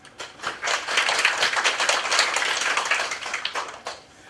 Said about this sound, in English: So let's give them a big round of applause to express our gratitude to their kind